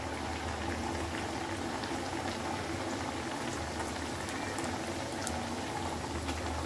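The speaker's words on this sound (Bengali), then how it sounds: "এখন আমি একে একে সবগুলো পিঠা দিচ্ছি।" Mung dal nakshi pitha cakes fry in warm oil on a lowered flame, making a dense, constant bubbling sizzle that stays at the same level from start to finish.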